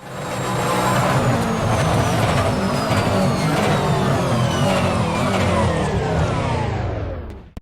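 A Brabham BT62 supercar engine from an Assetto Corsa racing game mod roars loud and steady, its pitch sweeping gradually downward as it decelerates over several seconds before cutting off abruptly.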